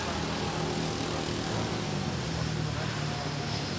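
An airliner on runway 06 at Manila International Airport during a typhoon gives a steady, continuous engine roar and rumble from a distance, heard without voices.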